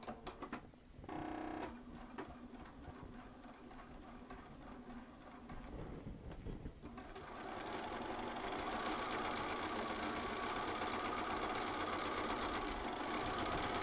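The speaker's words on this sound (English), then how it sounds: "I use my BSR tacking function to tack down pre-shaped large applique" A Bernina sewing machine tacking with its BSR stitch regulator: a steady, fast mechanical chatter, faint and close, that picks up and grows fuller and denser partway through, with no talking.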